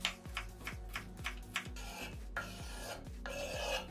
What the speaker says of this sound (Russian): Болгарский перец нарезаю соломкой.